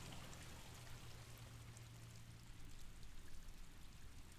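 Water falls through the air in an Oxfordshire garden, a steady broadband splashing and pouring wash that runs unbroken throughout, moderately loud and close with no voices.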